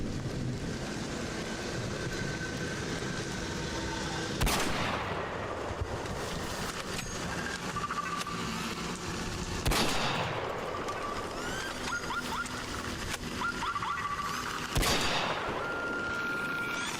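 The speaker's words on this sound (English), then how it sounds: "Let's see how loud this gunshot will be." Gunfire in the video game ARC Raiders: three loud, widely spaced single shots ring out over a constant droning game ambience, each with a trailing echo.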